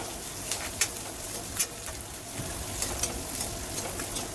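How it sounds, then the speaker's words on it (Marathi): Sliced onion frying on high heat for a dal-style dish, a steady crackling sizzle with occasional sharper pops and clicks throughout. "आता त्यामध्ये एक कांदा घालायचा उभा चिरलेला. थोडासा गुलाबी कलर येईपर्यंत परतून घेऊया. कांदा परतायला मी मोठा गॅस केलाय."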